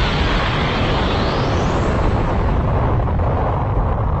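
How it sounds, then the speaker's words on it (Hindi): A big, loud cartoon explosion from an energy beam striking an energy ball roars for several seconds, a dense rumbling and hissing wash of sound that slowly thins out. "जिससे एक बड़ा धमाका हो जाता है।"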